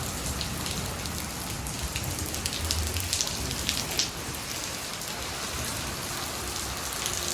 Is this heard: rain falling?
yes